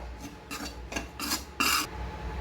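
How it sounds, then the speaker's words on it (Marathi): A spatula scrapes dried coconut as it roasts in a wok, making rhythmic rasping strokes that come in about five short bursts. The last stroke is the loudest and longest. "हे सुकं खोबरं भाजून घ्यायचंय चांगलं."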